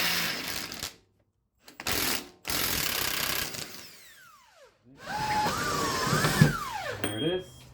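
A ratchet works a suspension bolt loose on a BMW F30 328i, giving several short bursts of clicking separated by pauses, with faint mechanical whirs between them.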